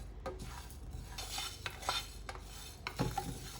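Whole spices dry roasting in a pan give off faint crackles and light scraping as they are stirred, quiet and close with intermittent taps, and no voices.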